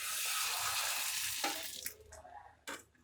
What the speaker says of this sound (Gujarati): તો હવે આપણે પાપડ તળી લેશું।